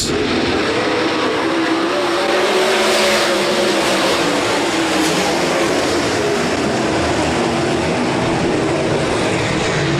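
360 sprint cars race around Rapid Speedway, their engines blending into a loud, unbroken roar that holds steady for the whole stretch with no voices over it.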